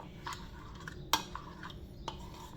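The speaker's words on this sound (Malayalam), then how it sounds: "കട്ടയൊന്നും ഇല്ലാതെ വേണം കലക്കിയെടുക്കാനായിട്ട്" Breakfast batter being whisked with water in a bowl until smooth: faint, sparse clinks and taps of a utensil against the container, quiet and close with no voices.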